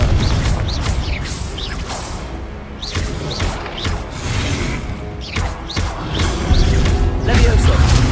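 Confringo fire-blast spells bursting in Hogwarts Legacy, a string of sharp whooshing blasts and crashing impacts over a rumbling combat bed, with a voice calling out spells between them.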